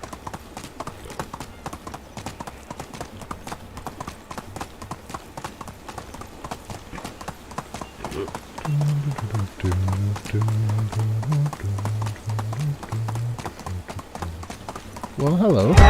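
Horse hooves clip-clop steadily in the medieval video game Medieval Dynasty, a fast, even rhythm that continues throughout, with thumps and game sounds growing louder later on and a person talking over it.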